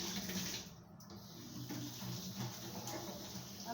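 Water runs steadily from a sink tap, filling vessels at home, a continuous close splashing rush that keeps going throughout with only slight changes in tone.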